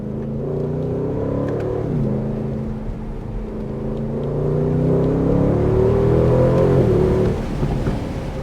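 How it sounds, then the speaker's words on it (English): A deep V8 engine of an Aston Martin DB12 Volante rumbles and revs steadily, pitch rising and falling through the gears, loud and close with a throaty growl. "Hear that V8."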